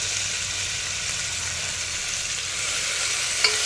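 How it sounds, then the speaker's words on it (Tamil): Crushed onion fries in a pan with a steady, even sizzle heard up close, near-constant throughout, with one small clink at the very end and no talking. "அதையும் போட்டு நல்லா வதக்கணும்"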